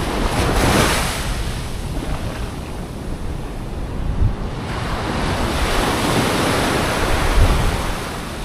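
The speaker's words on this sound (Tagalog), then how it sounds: "Ang alon." Ocean waves roll and wash continuously, close and loud, with gusting wind buffeting the microphone under a darkening sky before a typhoon, and no voices heard.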